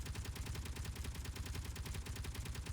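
Weapons firing in Space Engineers, a steady, rapid stream of evenly spaced automatic shots, faint and distant, with no pause through the whole burst.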